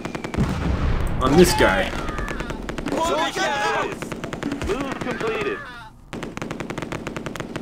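Rapid bursts of machine-gun and rifle fire from the World War II strategy game Close Combat 2, loud and dense with echoing shots, while someone talks over the gunfire throughout.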